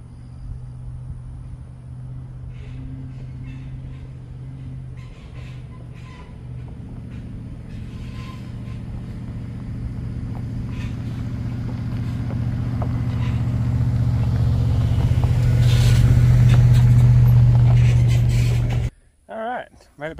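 A truck heading out on a road trip to collect hay hums along with a steady low engine rumble and road noise, building gradually louder before cutting off abruptly near the end.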